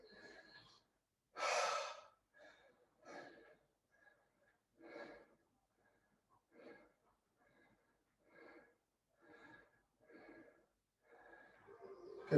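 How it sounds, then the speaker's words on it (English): Heavy, labored breathing between dumbbell and kettlebell workout rounds, a series of loud gasping inhales and exhales coming in irregular bursts every second or so, close to the mic with quiet pauses between breaths. "Apologies for the heavy breathing."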